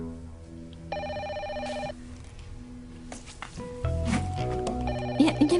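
A telephone bell rings in repeated bursts, clear and fairly close, while a second ringing tone layers over it and other sounds build in the background.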